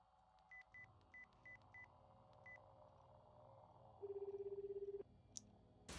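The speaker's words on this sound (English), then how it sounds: "and called Rimi's phone number" Dialing a phone number in the visual novel game Chaos;Head Noah: six quick keypad tones in an irregular rhythm, then a steady ringback tone and a short electronic blip, all quiet and without speech.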